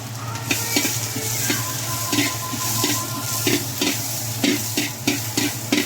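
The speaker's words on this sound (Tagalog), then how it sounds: "So tara guys, gisa na natin to, pero kunting mantika lang yan mga idol." Garlic and ginger sizzle in a small amount of oil, a steady close frying hiss punctuated by regular stirring scrapes of a utensil in the pan.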